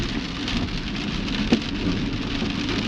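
Heavy monsoon rain pours steadily on a mountain road on the Kinnaur circuit, a dense, loud, continuous hiss of drops with one brief thump partway through and no voices.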